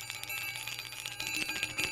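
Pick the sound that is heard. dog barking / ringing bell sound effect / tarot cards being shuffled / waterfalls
ringing bell sound effect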